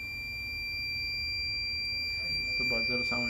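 The buzzer of a Premier pin hole tester checking enamelled copper winding wire sounds as a steady high electronic tone over machine hum, with brief clicks near the end.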